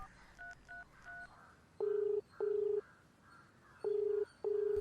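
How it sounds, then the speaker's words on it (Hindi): A landline telephone dialing a number: a few short keypad tones at the start, then four long, steady beeps in an even pattern, loud and clear with no talking. "लगता है घर पर कोई नहीं है, फोन करके देखता हूँ।"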